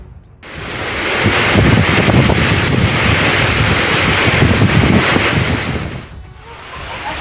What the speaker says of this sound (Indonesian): hujan deras disertai angin kencang dan hujan es melanda wilayah Lewiliang